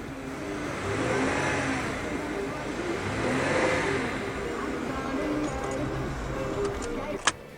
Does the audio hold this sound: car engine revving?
yes